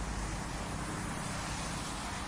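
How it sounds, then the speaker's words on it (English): Car tires hiss steadily along a wet road, a continuous broad wash of noise with a low rumble and no breaks, fairly close and with no voices. "Listen to the tires whispering on the wet road."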